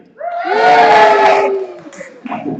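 A live audience answers a call for the Swain, Pettifer and Beecham families with a swelling burst of cheering and whooping voices, loud for about a second and a half before thinning into scattered shouts.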